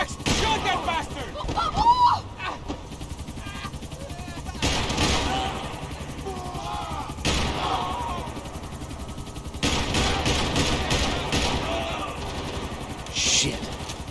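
Gunfire bursts in the video game Max Payne 3 during a chase, repeated shots and volleys amid shouting voices and music-like tones, loud and busy throughout.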